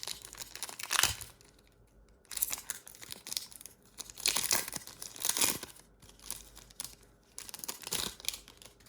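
Pokémon card booster packs are torn and crinkled open in quick irregular bursts of crackling foil wrapper, close and fairly quiet, with softer handling noises between.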